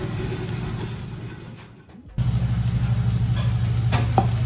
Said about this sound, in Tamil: எல்லாத்தையும் நல்லா ஃப்ரை பண்ணிக்கலாம்.